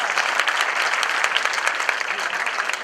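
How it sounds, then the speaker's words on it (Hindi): A crowd at a JNU Independence Day celebration applauds for Shrinivas, loud, continuous clapping from many hands, with some voices mixed in. "एक बार हम लोग की तरफ से भी श्रीनिवास जी के लिए ताली हो जाए"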